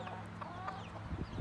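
Hens clucking inside a chicken coop, a hen guarding a newly hatched chick nearby, with a steady, close run of soft, low clucks and a few brighter calls over constant farmyard hum.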